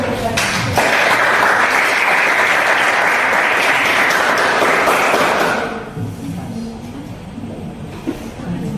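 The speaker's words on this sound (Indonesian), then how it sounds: "Tepuk tangan dulu." A group of students in a classroom applauds loudly for about six seconds, the dense clapping then stopping abruptly and leaving a quieter room with faint movement and low murmurs.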